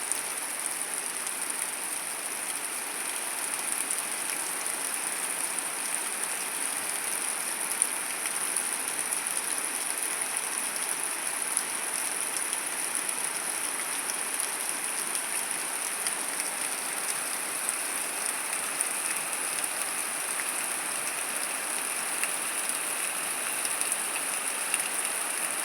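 Steady rain falling outside a window during a calm, windless evening power cut, the first rain of 2025: an even, continuous hiss of falling water with no gusts or breaks, fairly close.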